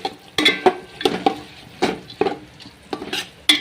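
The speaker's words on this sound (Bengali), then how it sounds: "তো 5 মিনিট আমি এইভাবে নেড়ে চেড়ে নেব।" Soaked red lentils being stirred in a pot of water for chicken bhuna khichuri, a spoon scraping in repeated close strokes with soft wet sizzling and occasional clinks against the metal, no talk.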